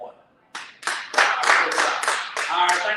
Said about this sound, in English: let's clap it up for season 1